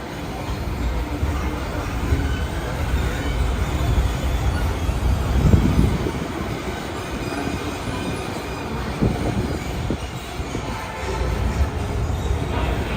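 A Disneyland Park tram rolls along with a steady rumble and wheel noise, a continuous mechanical drone lasting throughout, mixed with faint background crowd chatter.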